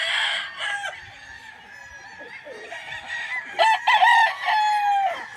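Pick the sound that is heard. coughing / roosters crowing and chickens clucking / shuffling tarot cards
roosters crowing and chickens clucking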